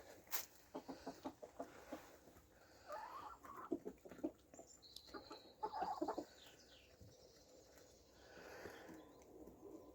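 Chickens clucking and squawking nearby in short irregular bursts, with quiet gaps between calls.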